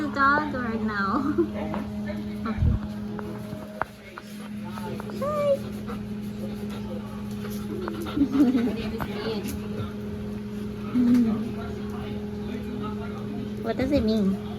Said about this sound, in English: Can I show everybody your guys' dog or no?